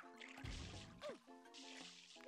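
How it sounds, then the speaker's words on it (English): Water dripping in Super Mario Sunshine, a few soft wet plinks and a squishy splash over a quiet game background, faint and without talk. "Dripping?"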